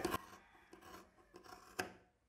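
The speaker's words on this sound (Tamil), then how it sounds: "பாருங்க இப்போ இந்த மாதிரி வந்து நம்ம கட் பண்ணி எடுத்துக்கிட்டோம்." Scissors cutting through fabric for a homemade face mask, with a few crisp snips and scraping rasps spread over two seconds, close and fairly quiet, no talking.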